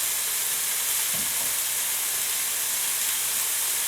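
Meat browning in a pan for a crockpot dish gives a steady, even sizzle and hiss throughout, with one soft thump about a third of the way in as the pieces are flipped.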